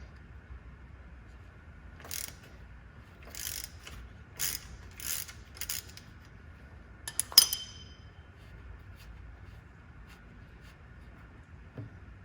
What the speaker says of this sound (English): 3/8 ratchet and with the 5/16 Allen on it.